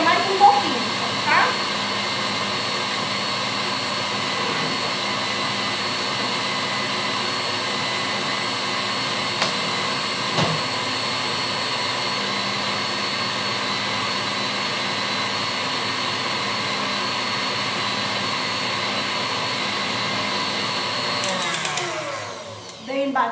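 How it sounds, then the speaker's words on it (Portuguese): Stand mixer running at maximum speed whipping egg whites for a Bûche de Noël, a steady loud whir held for about twenty seconds before it shuts off. "Então eu vou ligar minha batedeira aqui no máximo."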